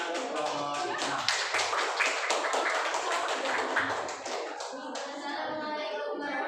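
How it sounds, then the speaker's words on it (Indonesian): A classroom of students claps for a presenting group, a short run of close, uneven hand claps that fades after a few seconds into quieter murmuring. "Tepuk tangan untuk kelompok 6."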